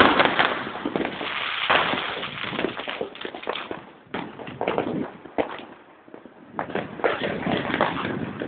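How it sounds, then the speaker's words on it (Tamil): Diwali firecrackers crackle and pop in dense, continuous bursts at close range, easing briefly before another loud volley erupts. "தீபாவளி வாங்கின பட்டாசுலாம் இங்கே"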